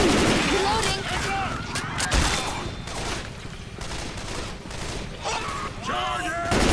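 Gunfire crackles in the Left 4 Dead 2 video game: repeated sharp bursts and scattered shots from several weapons, with players talking over the shooting.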